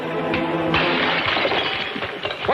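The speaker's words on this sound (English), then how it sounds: "What broke that? It was made of unbreakable glass." Supposedly unbreakable glass shatters in a colorized vintage adventure serial, a loud crash followed by tinkling shards and clattering fragments over a couple of seconds.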